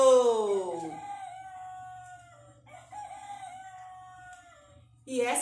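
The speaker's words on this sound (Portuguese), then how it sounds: "de repente, escutou o galo que com toda a força" A rooster crows loudly with a long, drawn-out cry that fades into a faint, thin tail, heard up close during a told story, with a short burst of sound returning at the end.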